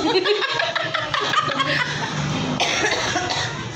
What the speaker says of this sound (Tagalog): pag tumatawa ako, inuubo